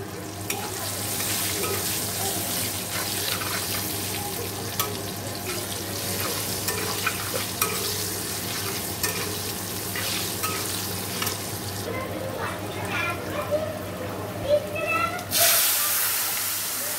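Tangra fish frying in a pan with turmeric, salt, a little sugar and raw tomato, a steady sizzle with occasional stirring scrapes and pops, with a brief flare of steam hiss near the end.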